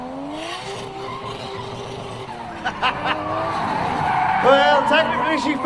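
A car drifting on a race track, tires squealing in long wavering whines that rise and intensify toward the end, with engine noise beneath and people talking over it.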